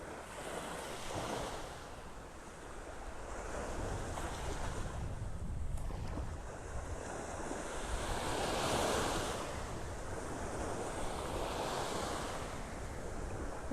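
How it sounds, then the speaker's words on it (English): Steady wind and breaking surf along a beach in North Naples, Florida, with waves swelling and receding in slow surges while gusts rumble against the microphone; no voices are heard. "It's nice being out here on the beach."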